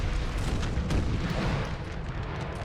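Artillery cannon fire in Napoleon Total War, a dense rumbling barrage of deep booms blending into continuous battlefield roar, loud and sustained before easing slightly.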